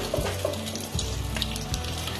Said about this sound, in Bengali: একই তেলের মধ্যে ফোড়নের জন্য কালো জিরে দিয়ে দিলাম